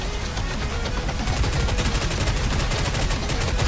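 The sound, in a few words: gunfire shooting turrets in NIKKE video game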